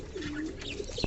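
Baby fantail pigeons give a soft, wavering coo, a short low call with a faint extra note near the end, close and clear.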